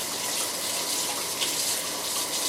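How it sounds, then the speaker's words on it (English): Hands are rinsed under a running kitchen tap while gluten-free tortilla dough is being made, a steady close hiss of flowing water that holds even and unbroken throughout, with no talking. "rinse your hands off"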